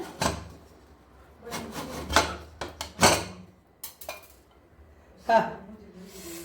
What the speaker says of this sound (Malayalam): നമ്മുടെ കുക്കർ ബിരിയാണിയുടെ വിസിലെല്ലാം പോയിട്ടുണ്ട്. നമുക്കിതൊന്ന് തുറന്ന് നോക്കാമേ.